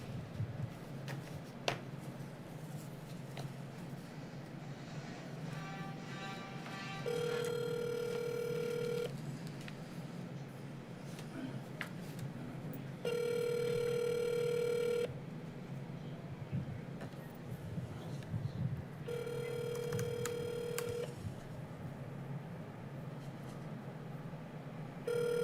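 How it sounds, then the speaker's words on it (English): A live phone call is placed: a quick run of dialing tones is followed by a steady ringback tone that sounds three times in long, evenly spaced bursts, with quiet room noise between rings. "I'm trying to get the phone number to make one more live phone call."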